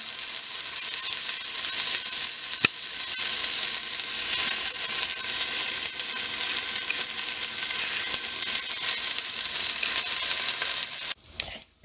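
Onions and garlic fry in vegetable oil in a hot pan, a steady, bright sizzle close by with small crackles, cutting off abruptly near the end.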